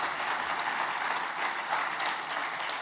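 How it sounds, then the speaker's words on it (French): Audience at a straw-building congress applauds a presenter after a talk, an even, continuous wash of many hands clapping heard at moderate distance, with no speech over it. "On peut l'applaudir."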